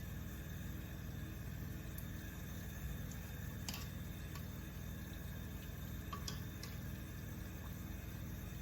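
Egg rolls fry in oil on medium heat, making a quiet, steady sizzle and bubbling with a few soft pops, no voices over it.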